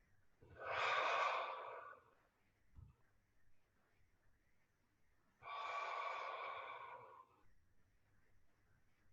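Two slow, audible breaths during a yoga exercise, each lasting about two seconds with a long pause between, close and fairly soft in a quiet room.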